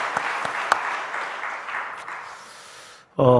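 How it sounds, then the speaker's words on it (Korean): A church congregation claps together during a Sunday service, a sustained wash of applause that slowly fades, with a few sharper claps early and a voice breaking in loudly at the end. "우리 GTN 뉴스를 제작하는 우리 제작진들 위해서도 우리 박수 한번 할까요?"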